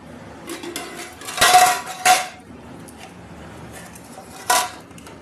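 Rice is served onto a metal plate at home with a spoon: a few sharp clinks and scrapes of utensil on dish, two bursts close together and a last one later, close and fairly loud over a quiet background.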